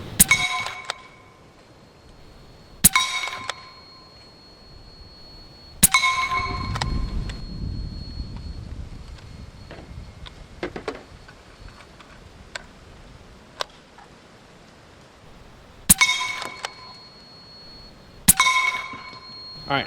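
Airgun pellets striking a steel Texas Star target, loud bright clangs with ringing metallic tails spaced a few seconds apart, plus fainter ticks and clinks between hits and some low rumbling handling noise.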